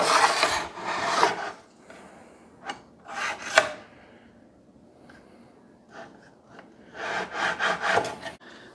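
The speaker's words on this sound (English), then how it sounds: "I'm using a 5/8 Forstner bit to drill these holes" A 5/8-inch Forstner bit bores holes into wood in several rough, grinding bursts, near and fairly loud, with short quiet pauses in between.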